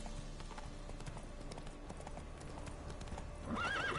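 A horse in The Witcher 3 moving over desert ground: rapid clip-clop hoofbeats run steadily throughout, and a loud whinny breaks out near the end.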